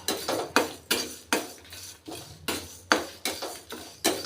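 Lentils dry-roasting in a pan with no oil over a medium flame, stirred in steady scraping strokes about twice a second, close and clear with nothing else over it.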